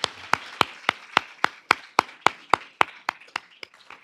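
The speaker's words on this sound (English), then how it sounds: "So let's give them a round of applause." Applause for students being recognized at a college admissions session, a crisp rhythmic run of about fifteen evenly spaced claps that slowly fades toward the end.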